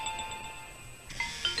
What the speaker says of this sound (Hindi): हमने आपका फोन बजा